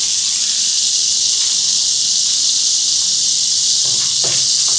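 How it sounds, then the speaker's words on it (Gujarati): Butter melts into hot oil in a pan for popcorn, giving a loud, steady, hissing sizzle throughout, with a few faint knocks near the end. "બટર ઉબળી જાય"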